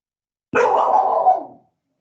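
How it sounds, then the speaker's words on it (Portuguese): A single dog bark, close and loud, rings out once after a moment of silence and then fades. "Onde é esse cachorro, menino?"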